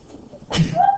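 A single abrupt sneeze, loud and close, ending in a brief voiced tail after a quiet moment.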